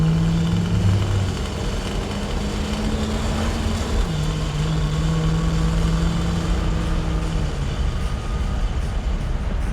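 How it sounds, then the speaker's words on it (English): A 1964 Buick LeSabre's 355 Wildcat V8 idles close by with a deep, even, mellow rumble through a factory-style exhaust that holds steady throughout. "Sounds like factory exhaust"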